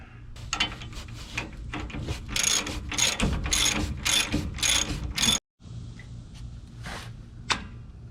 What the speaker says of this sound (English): this is just a 21mm wrench and a 21mm socket. So I'm going to go ahead and take that nut off